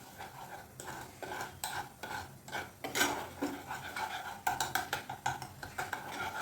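Cashew mixture for kaju katli stirred continuously in a pan as it thickens, a steady scraping, rubbing motion with intermittent metallic clinks of the spoon against the pan, close and moderately loud, no talking.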